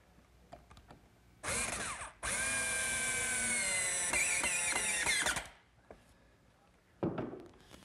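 Two bursts of power drilling through wood with a pocket-hole guide, boring blind screw pockets for a bookcase: a short whine, a brief pause, then a longer steady run that winds down, with faint workshop knocks around it.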